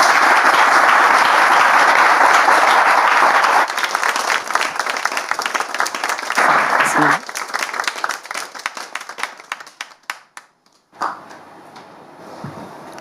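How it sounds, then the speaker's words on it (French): A studio audience applauds as a guest is welcomed on stage, starting as loud, dense clapping that thins into scattered claps and then fades, followed by a few soft knocks and a brief spoken voice near the end. "On peut l'accueillir avec des applaudissements, s'il vous plaît."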